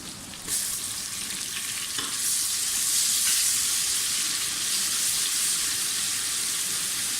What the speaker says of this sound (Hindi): प्याज हमारे फ्राई हो गए हैं, अब आप इसमें ये ज़्यादा पेस्ट डाल दें।